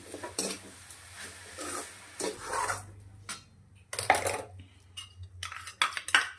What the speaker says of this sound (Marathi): काजू, विलायची आणि ह्याच्यात टाकून घेऊन बारीक करून घेतलंय. चांगलं मिक्स करायचं.